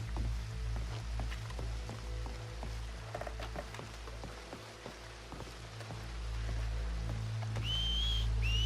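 A rising, wavering whistle near the end, over a steady low hum and scattered ticking, drip-like sounds in Red Dead Redemption game ambience.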